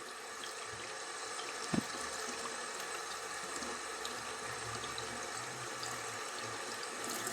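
Water flushing from a Stone Stream shower head fitted with a filter kit, a steady, fairly quiet hiss of running water that goes on throughout, with one brief clunk near the start.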